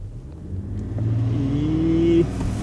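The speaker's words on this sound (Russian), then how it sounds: "А сейчас попробуем, за сколько дизельный GV80 разгоняется с места до 100 км в час." A diesel Genesis GV80 accelerates hard from standstill toward 100 km/h, its engine note climbing steadily in pitch to a gearshift near the end, heard from inside the cabin with no talking.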